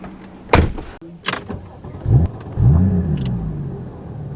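Power convertible roof on a 981 Porsche Boxster S cycling automatically, with a few sharp mechanical clunks and latch clicks followed by a steady motor whir as the top moves, close and fairly loud, with no talking.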